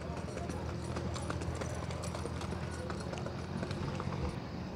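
Horse hooves clip-clop steadily at moderate volume over a noisy outdoor background at a horse fair in Cachoeirinha, Pernambuco, with voices talking faintly underneath.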